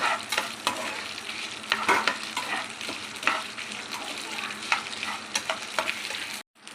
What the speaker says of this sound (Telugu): ఎండుమిర్చి పచ్చిమిర్చి ఫ్రై చేసుకోవాలండి